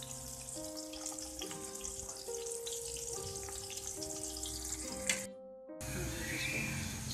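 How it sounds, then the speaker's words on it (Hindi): Sliced onions sizzle and fry in a hot pan while browning for a green chickpea pulao, a steady bright hiss under a soft tonal music bed, with a short break in the sizzle near the end. "प्याज को हमने ब्राउन कर लिया"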